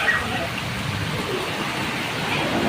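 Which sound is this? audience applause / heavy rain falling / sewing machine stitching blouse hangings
heavy rain falling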